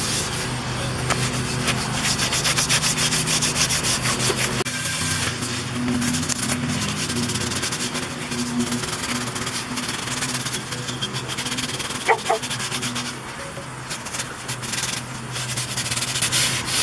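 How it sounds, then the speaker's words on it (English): A cast iron skillet is scrubbed with steady, loud rubbing strokes that run almost continuously, grinding against the crusted metal and pausing briefly now and then, with no speech. "because we need to scrub the sides and the bottom too."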